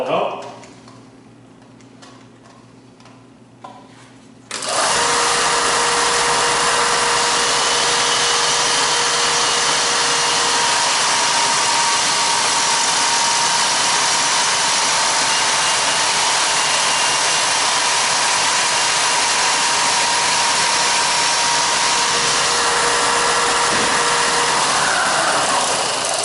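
A sander runs with a barrel taper tool fitted and a guide installed, starting after about five seconds of quiet and then holding a loud, steady, broadband whine close by for the rest of the clip.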